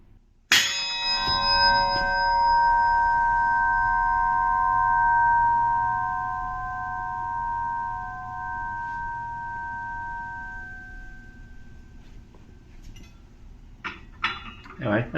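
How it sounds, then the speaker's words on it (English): A cut metal stock plate for a featherweight combat robot rings out when lifted, one bright clang decaying into a long, clear, sustained metallic tone that fades over about ten seconds. Faint handling clinks follow near the end. "Just picking up some stock material, it made a really nice noise."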